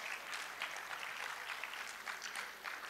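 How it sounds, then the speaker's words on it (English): Faint audience hand-clapping at the annual general and scientific meeting of the Ghana College of Physicians and Surgeons, a steady patter of many hands heard from a distance and continuing throughout. "So you should clap our hands for yourself that we should live long."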